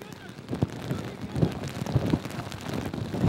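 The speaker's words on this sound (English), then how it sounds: "Heavy rain falling in the Garrison Savannah." Heavy rain pours onto a rugby pitch at the Garrison Savannah during a sevens match between Guyana and Curacao, a steady broadband wash with gusts of wind buffeting the microphone and a commentator talking over it.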